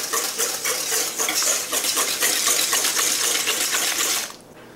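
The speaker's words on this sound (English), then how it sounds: "Beat the eggs one more time." A fork beats eggs in a bowl for butter-scrambled eggs, giving a fast, steady run of light clicking and scraping close by that stops abruptly near the end, with no talking over it.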